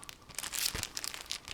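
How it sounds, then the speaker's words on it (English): Sheets of perfume paper being handled, with crisp crinkling and rustling bursts spread across the moment, close and fairly loud, no voice. "This is a perfume paper, 10 sheets and 5 envelopes."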